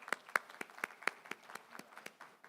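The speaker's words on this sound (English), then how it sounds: "Give them a big round of applause" Sparse, uneven clapping from a small audience at a finance leadership event as two people come on stage, sharp individual claps thinning out toward the end.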